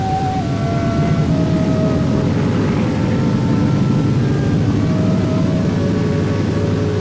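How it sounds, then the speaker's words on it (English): A propeller airplane takes off in Antarctica, its engine droning loud and steady with a sustained whining tone throughout, no voices over it. "Byrd took off from the comparative security of Little America"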